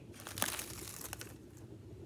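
Thin plastic film is peeled off Mini Brands toy packaging, giving a quiet, close crinkling and crackling with a couple of sharper ticks.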